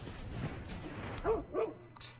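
Two short barks from the Blink Dog card in the MTG Arena digital card game, spaced about a third of a second apart over soft background music, fairly clear and close.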